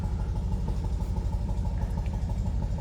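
A fully restored 1970 Fiat 500 Lusso 110F runs at a steady idle, giving off a low, even rumble with a faint mechanical clatter that holds constant from start to finish.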